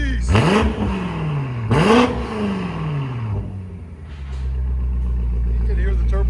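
Modified German V8 with a turbo revs hard twice in quick succession, each loud blip falling away, then settles into a steady rumble with a rising whir as the turbo spools; a voice speaks over part of it.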